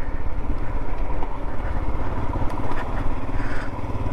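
A Royal Enfield Himalayan adventure motorcycle running on the road, a steady low single-cylinder thrum held at a constant pace throughout, close and fairly loud with no talking.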